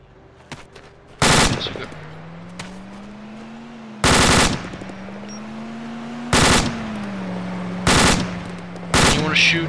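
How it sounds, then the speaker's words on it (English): An AR rifle fired downrange from a deployed bipod lets off four or five short, loud, sharp automatic bursts at irregular intervals, each several rounds long, with a steady mechanical hum between them. "Shoot in bursts, 5 to 7 bullet bursts"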